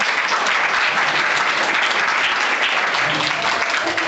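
A church congregation in Jeypore, Odisha claps together in a sustained, even round of applause, dense and close, holding steady for several seconds with no talk over it.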